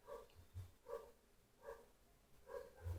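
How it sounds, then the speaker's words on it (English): Pet dog barking indoors at a moderate distance, four or five separate barks spaced roughly evenly, fairly faint against a quiet room. "let me go stop my dog from barking again"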